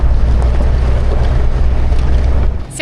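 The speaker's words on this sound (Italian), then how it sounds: "va anche una meraviglia, tira tantissimo questo motore" A boat motor drones steadily and loudly on a trip through mountain scenery, its low rumble mixed with wind buffeting the microphone, then easing off in the final half second.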